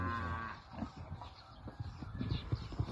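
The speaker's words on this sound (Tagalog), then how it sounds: "Yung inahing baboy namin." Farm animal sounds from a mother pig, a sow, in a pen: low grunting and snuffling comes in short repeated bursts, fairly close, with no talk over it.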